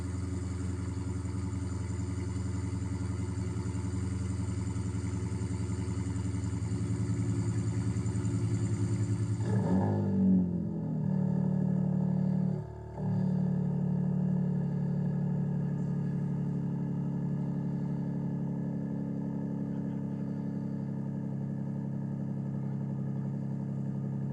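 The Hurricane-engined 2026 Dodge Charger idles loudly at close range, and its exhaust note changes partway through as the active exhaust mode switches, with a brief dip before the steady drone resumes.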